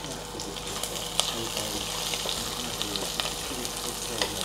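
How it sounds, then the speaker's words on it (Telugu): Cashew pieces and five or six green chillies fry in hot oil in a pan, giving a steady broadband sizzle with occasional small crackles and pops throughout, no talking. "దీంతో పాటే పచ్చిమిర్చి ఒక 5-6 పచ్చిమిరపకాయలు కూడా వేయించేస్తున్నాను."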